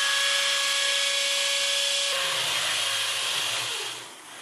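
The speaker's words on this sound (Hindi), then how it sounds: "he's our carpenter and he's going to drill there." A carpenter runs a power drill into a kitchen wall to make a hole for a gas stove connection, a loud steady whine that cuts off midway and gives way to lower grinding and rubbing as the bit works the material.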